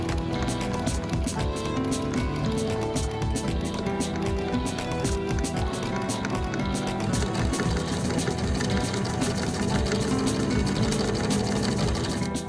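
A sewing machine zigzag-stitches a once-folded hem on a Butterick 5865 travel dress. The motor runs close and loud with an even, rapid mechanical chatter that continues without pause throughout.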